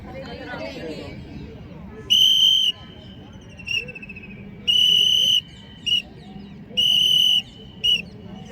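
Police drill whistle signals in an outdoor training setting: shrill blasts sounding long, then short, then long again with brief short toots between, loud over a murmur of crowd noise and distant voices.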